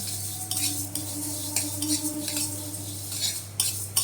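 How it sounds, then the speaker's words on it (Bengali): Moong dal being stirred in a dry pan while it roasts, with spoon scrapes and light clinks against the metal over a steady low hum, no talking. "মুগের ডালগুলো একটু নেড়ে নিই আগে।"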